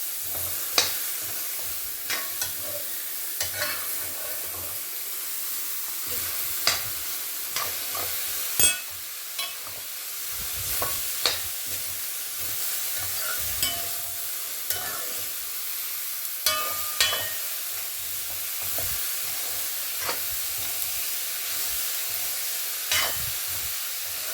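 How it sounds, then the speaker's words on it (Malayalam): Chopped ivy gourd for a Kerala-style stir-fry sizzles steadily in a pan, while a spoon stirs and scrapes with frequent irregular clicks and knocks throughout. "ഇനി കോവയ്ക്ക നന്നായിട്ട് മിക്സ് ചെയ്യാം."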